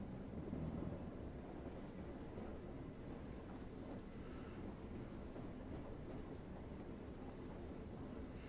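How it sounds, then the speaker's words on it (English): A diesel multiple unit train rumbles steadily in the distance near a rail yard in the Train Sim World game on the Tees Valley Line, a low continuous drone with wind-like noise and no speech. "Another DMU in the distance,"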